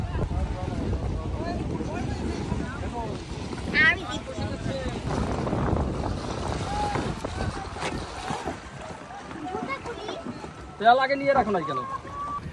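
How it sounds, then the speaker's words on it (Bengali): A boat carries a family along the Tetulia River in Bangladesh. Steady rumbling water and boat noise mix with gusty wind buffeting the microphone, and people talk on board throughout. "আমরা নৌকাতে উঠে গেছি অলরেডি"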